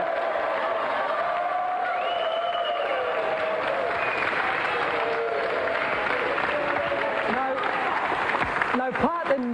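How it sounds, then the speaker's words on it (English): Applause and crowd noise fill the clip, with loud talking over it. "Another round of applause for Pat Sharp and Mick Brown."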